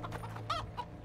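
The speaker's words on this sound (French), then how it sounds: "Une poule." A chicken in The Witcher 2 video game gives a few short, close clucks in quick succession, with a louder squawk-like cluck in the middle, over a low steady game background hum.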